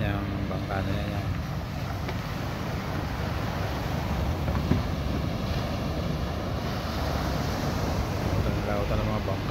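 A motorboat engine runs steadily at sea, its drone blending with wind buffeting the microphone and waves washing around the hull in a continuous, loud wash.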